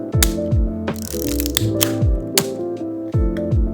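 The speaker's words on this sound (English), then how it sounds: "This is the Rollie 35S, and I just love it. Listen to that. That just sounds precision." The precise mechanism of a Rollei 35S film camera, empty of film, clicks and ratchets at close range: crisp repeated winding and shutter clicks in a quick, uneven rhythm, alone without talk.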